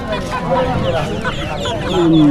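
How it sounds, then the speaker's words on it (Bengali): Chickens cluck at a busy livestock market in West Bengal that also sells ducks, goats and cattle, mixed with steady crowd chatter and nearby talk. "এখানে যে মুরগিগুলো রয়েছে সব খাওয়ার"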